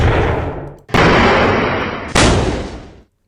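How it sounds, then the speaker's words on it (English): Three heavy explosion sound effects from a sound library play back to back, each a loud booming burst that decays into a rumbling tail before cutting off, with no talk. "let's type explosion in here, and we'll have a lot of different crash and explosion effects"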